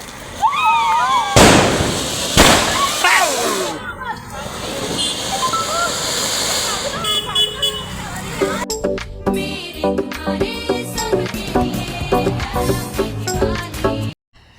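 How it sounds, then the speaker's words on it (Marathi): Sharp crackling bursts and pops of firecrackers ring out among whistles and background commotion during Diwali Padwa celebrations, followed by a stretch of rhythmic music with people around. "त्याच्यानंतर आम्ही फटाके उडवले"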